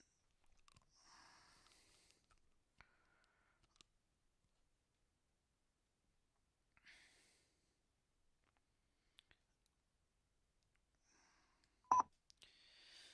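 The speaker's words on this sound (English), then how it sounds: "Right, dialer's going again." An auto dialer places an outgoing telephone call during a cold-calling session. A long near-silence ends in a short, loud burst of dialing tones.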